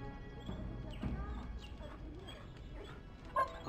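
A dog whimpers and yips in Dragon Age: Origins, a few short whines close by against a steady game backdrop, with a louder bark-like burst near the end.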